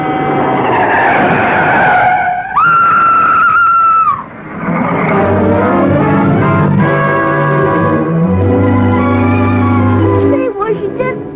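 A car skidding in a radio drama sound effect: a loud, sustained tire screech holding for over a second, then a rumbling engine and road noise, with voices talking over the scene.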